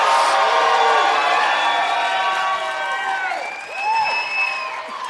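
Loud audience applause and cheering fill the room, dense clapping with whoops and shouts layered on top, steady throughout and swelling slightly near the end.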